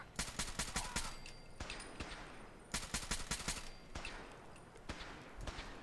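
Bursts of gunfire from a companion fighting enemies in Fallout 4, several rapid volleys of close, loud shots with brief pauses between them and no talk.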